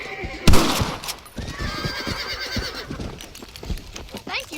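A horse in the Red Dead Redemption video game lets out a loud whinny, followed by hoof clip-clops and scattered gunfire in the game's outdoor setting, with voices talking over parts of it.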